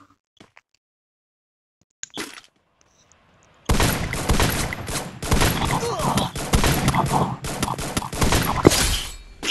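Rapid video game gunfire breaks out after a near-silent opening, a dense, loud stream of shots and impacts that runs continuously to the end.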